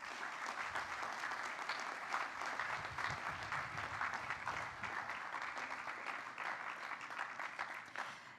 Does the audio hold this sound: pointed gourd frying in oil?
no